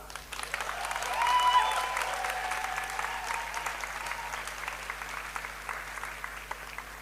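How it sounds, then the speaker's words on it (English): An audience at a global forum gathering applauds in a steady wash of clapping that swells early, then gradually thins and fades while continuing to the end. "please clap as a sign of our deep acknowledgement"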